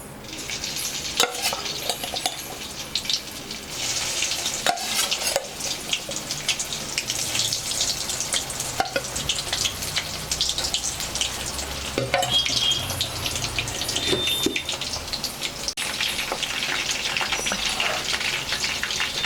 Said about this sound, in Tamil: இப்போ நம்ம போட்டு ஆயிலில் பொரிச்சு எடுத்துக்கலாம்.